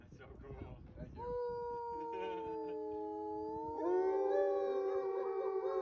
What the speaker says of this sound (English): They howl mostly to communicate.